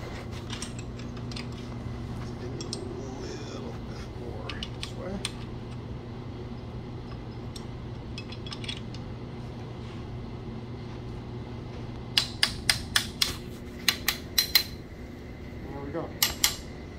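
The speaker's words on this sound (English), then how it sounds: "Notice I just gave it a little tap." A cam phaser on a Porsche M96/M97 engine from a 996/997 is tapped into place with a tool. A quiet workshop hum gives way to a quick run of sharp, close metallic taps and clicks near the end.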